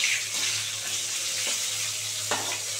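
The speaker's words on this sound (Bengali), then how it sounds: "মাছের মাথা সুন্দর করে কড়া করে ভাজতে হবে" A fish head fries in hot oil, giving a soft, steady sizzle and crackle that goes on throughout at low level, with a few faint clinks or stirs.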